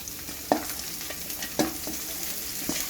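Chopped banana flower frying in a hot pan, a continuous sizzle broken by a few sharp spoon scrapes and stirs at uneven intervals.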